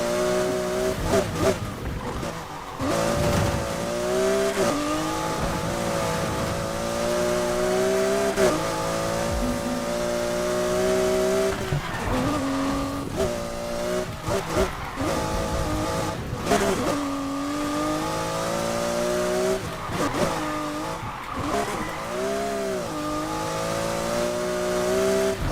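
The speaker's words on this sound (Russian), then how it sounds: "Такой затяжной дрифт на скорости 140." A racing car engine in Need for Speed whines and shifts pitch continuously while tires squeal through a long drift at 140, loud and close throughout.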